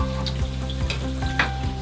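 Food frying in a pan at home gives a steady, close sizzle with light stirring, heard beneath background music.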